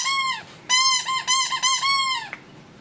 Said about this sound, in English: first we have a Squeaky Skull dog toy.